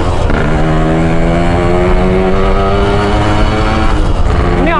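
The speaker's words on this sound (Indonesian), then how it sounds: "Mesinnya nyala. Langsung di gaspol." A racing motorcycle engine held at full throttle screams loud and close, a steady high-revving tone with rising harmonics that shifts in pitch near the end, with no talking.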